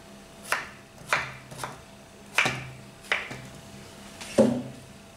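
A knife cuts through a giant mango onto a board, making six sharp, separate chopping thunks at uneven intervals, close and clear with no talk.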